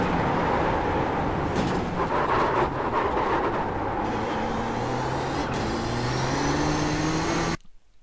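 An iRacing race car at Barber Motorsports Park held at full throttle through a corner exit: a loud, sustained engine drone whose pitch climbs steadily, with a brief shift partway through, cutting off abruptly at the end.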